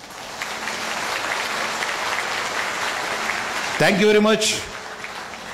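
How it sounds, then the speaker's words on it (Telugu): Brief burst of audience applause in a lecture hall, loud for under a second, followed by someone speaking to the crowd. "అర్థమైతే గట్టిగా చప్పట్లు కొట్టొచ్చు"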